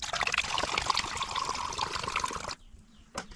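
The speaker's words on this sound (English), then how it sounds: "And then you will fill the jug with your thinner." Thinner pours in a steady gurgling stream into a plastic jug while mixing homemade brake cleaner and degreaser, loud and close, then stops abruptly with a last brief splash.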